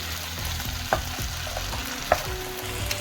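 Chickpeas stirred and fried in a pan, coating in the spices: a steady close sizzle with scraping stir strokes and a couple of sharper clinks of the utensil against the pan, with no talking.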